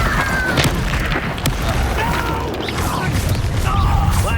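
Fiery blasting-spell explosions in the video game Hogwarts Legacy, loud booming bursts mixed with crackling impacts and game effects, running continuously through the moment.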